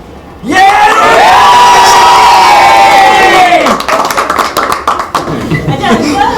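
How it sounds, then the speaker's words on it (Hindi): A large, loud crowd at a box cricket league event shouts and cheers in a long sustained roar. It breaks into clapping and scattered whoops as the roar fades. "हमने रोहानिका के लिए जोर से चिल्लाया नहीं."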